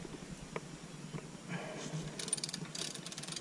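Ratchet wrench clicks rapidly in two short bursts while loosening a bolt on a TTR 125 motorcycle during a chain and sprocket change, faint over a quiet workshop background with a few light metallic taps.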